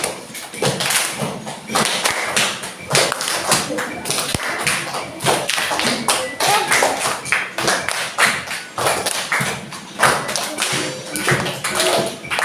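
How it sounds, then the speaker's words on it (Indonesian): A group of people claps by hand in rhythmic, repeated bursts in a classroom setting, fairly close and steady, with some voices mixed among the claps. "Ini sambil tepuk tangan."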